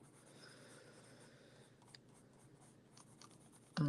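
A marker moves across paper in a coloring book, a soft, faint scratchy rubbing with short strokes, quiet and close, ending with a louder bump.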